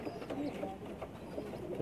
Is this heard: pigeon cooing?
yes